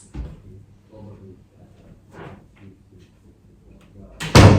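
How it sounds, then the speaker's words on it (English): Doors are shut during an indoor Pilates workout: soft shuffling and low murmurs come first, then one loud, sharp close lands near the end. "Just going to close these doors."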